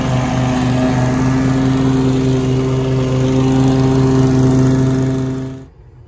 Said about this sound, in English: we'll see how the Toro handles it